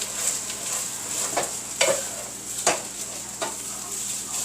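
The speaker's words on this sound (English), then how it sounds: "They're gonna stir it." A spice mixture for chicken tikka masala stirred in a pan, a soft sizzle broken by several distinct scraping strokes of a utensil at uneven intervals, close and alone.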